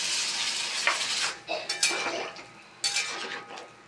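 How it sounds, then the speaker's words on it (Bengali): Water goes into a pan of frying spices, potato and pointed gourd, setting off a bright hiss, followed by metal spoon scrapes and clanks against the pan, all close and loud. "সামান্য একটু জল দিয়ে দেবো, মশলাটা লেগে গেছে নিচে।"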